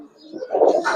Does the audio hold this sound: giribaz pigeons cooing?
yes